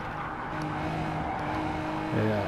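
Race cars roar through a Gran Turismo Sport race, engines droning steadily with a rising pitch near the end, moderately loud and with no voices.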